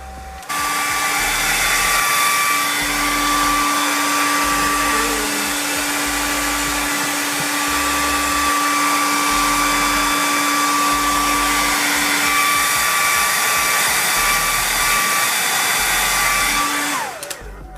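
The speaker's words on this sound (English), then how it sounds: "you're gonna take your blow dryer, and I set my blow dryer on cool, but I turned up the fan really high" A blow dryer runs on its cool setting with the fan on high, whirring loudly and steadily for about sixteen seconds before switching off; no talking.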